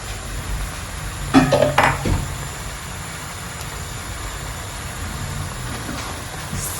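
Chopped zucchini tumbles into a pan of minced meat with onion and garlic, giving a short burst of clattering and scraping near the start, then a faint steady background hiss as it settles.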